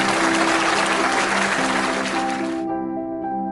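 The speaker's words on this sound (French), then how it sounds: "La foule les acclama." A circus crowd applauds and cheers in a dense, loud wash of clapping that holds steady for a few seconds, then cuts off abruptly, leaving sustained musical tones behind.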